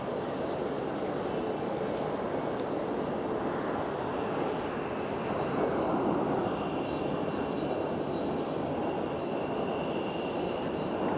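A jet airliner lands at Phoenix airport, heard as a steady, broad engine roar that carries through the whole stretch. The sound is moderately loud and distant, with no one speaking.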